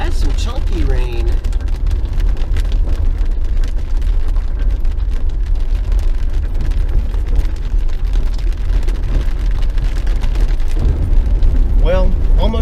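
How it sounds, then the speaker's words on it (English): Steady, dense rain drums hard on a car roof throughout, a constant loud hiss with a voice briefly audible near the start and end. "Had some chunky rain."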